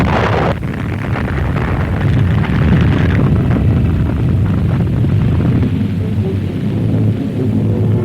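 Archival recording of the detonation of more than 5,000 kilos of TNT buried under the Alcázar during the Spanish Civil War: a sudden heavy blast gives way to a sustained loud, rumbling roar that lasts for several seconds.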